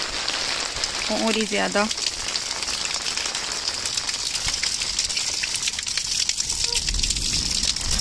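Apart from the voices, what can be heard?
rain falling at the start of a thunderstorm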